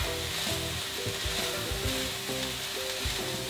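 Kashmiri chilli powder and spices sizzle and fry in a hot pan while being stirred, a steady hiss with intermittent low scraping knocks and faint background hum throughout.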